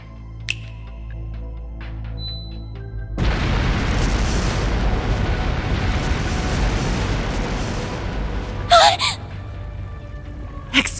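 Fireworks explosions in the Trails through Daybreak video game: a sudden loud broadband burst takes over after a few seconds and rumbles on as dense continuous blasting, with a couple of sharp crackling pops near the end.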